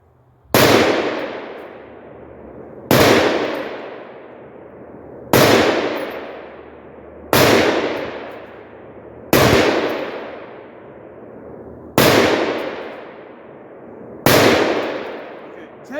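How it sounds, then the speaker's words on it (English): Seven evenly spaced, loud rifle shots from a Palmetto PA-10 Gen3 AR-10 fired rapidly at a 200-yard target, each sharp crack trailing into a short decaying echo, roughly one every two and a half seconds. "I'm gonna try and shoot that as fast as I can and still stay on it"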